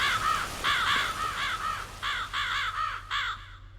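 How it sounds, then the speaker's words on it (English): Crows caw repeatedly in the Oblivion mod Nehrim, a series of harsh, rhythmic calls in bursts of two to four, fairly close and loud over a low steady ambient hum, with no talking. "Listen, crows."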